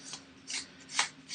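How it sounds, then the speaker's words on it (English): Playing cards are shuffled at a board-game table, giving several quick, soft riffling bursts at close range in a quiet room. "Shuffle and a cut in honor of Cat Weasel"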